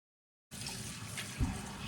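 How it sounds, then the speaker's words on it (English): Tap water runs into a small pot in a home kitchen while canning green beans, a soft, steady faucet stream starting abruptly after a brief silence, with one small splash partway through. "So I'll just fill a little pot with water"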